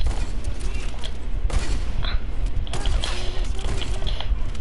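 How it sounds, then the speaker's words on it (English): Video game gunfire rings out in several sharp, loud bursts over a dense, continuous background of game noise. "why are you trying to shoot me?"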